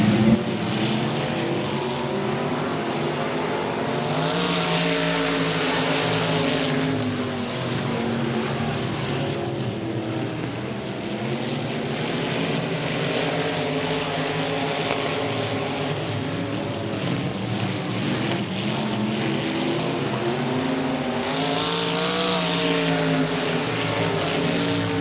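Race cars roar around a speedway oval in a steady, continuous engine drone, several cars bunched together battling for second and third place, their engine pitch rising and falling as they pass.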